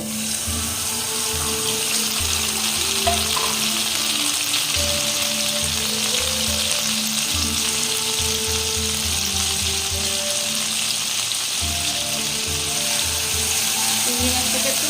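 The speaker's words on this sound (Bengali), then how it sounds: "তেল দিয়ে দিলাম। এবার আমি চিংড়ি মাছটাকে ভেজে নেব।" Shrimp fry in hot oil in a pan, giving a loud, continuous sizzling hiss that stays steady throughout, heard close up with no talking.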